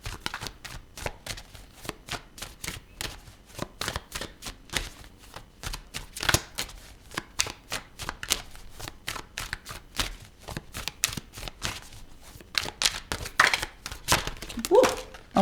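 Tarot cards being shuffled by hand: steady rapid riffling and flicking for the whole stretch, close and crisp, with no voice over it.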